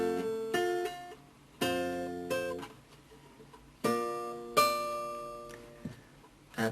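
Guitar plays three wide chromatic chords one after another, with repeated strums spaced by pauses and each chord ringing then decaying, close and moderately quiet with no talking.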